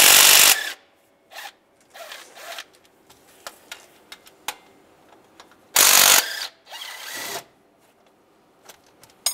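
Ratchet with a 15mm socket backs out belt tensioner bolts on a 2007-2013 Chevy Silverado during a water pump job, giving several short bursts of rapid clicking separated by pauses, close and fairly loud.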